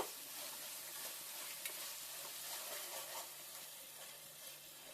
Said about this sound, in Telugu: ఇప్పుడు అల్లం వెల్లుల్లి పేస్ట్ 1 స్పూన్ అయితే యాడ్ చేసేసుకొని పచ్చి వాసన పోయే వరకు అయితే మీరు ఫ్రై